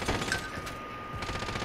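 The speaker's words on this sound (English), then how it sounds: "Somebody else shooting at me." Gunfire in a video game battle at a boneyard, rapid bursts of shots and automatic fire crackling at moderate distance in quick succession, with no talking.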